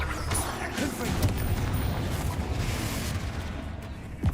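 Spell blasts from Bombarda and Confringo in Hogwarts Legacy, a dense stream of loud booming explosions and crackling impacts overlapping with no pauses, with a sharper burst near the end.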